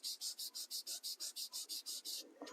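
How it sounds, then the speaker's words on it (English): Firm, rhythmic rubbing of Versamark ink onto paper during gradient stamping with Stampin' Up! products, about twelve quick, even back-and-forth strokes close by, then a brief softer handling sound. "And I am rubbing really hard"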